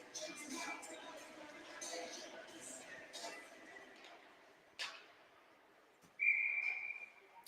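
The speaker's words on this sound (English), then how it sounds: "Get another whistle cutting the air as that puck came out and back in" A sharp referee's whistle blast rings out late at a girls' 12U ice hockey game in an arena, preceded by a brief swishing burst, over steady crowd and rink background noise.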